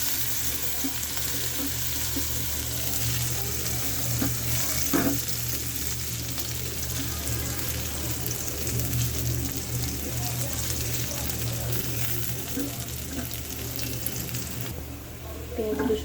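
Cumin, chopped onion and garlic sizzle in hot oil for tempering dal, a steady, close frying hiss with occasional stirring clinks that drops off briefly near the end.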